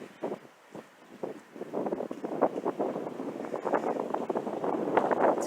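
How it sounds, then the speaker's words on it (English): Gusty wind buffets the microphone in rumbling bursts, growing steadier and louder toward the end, with no one speaking. "It's very windy out here right now."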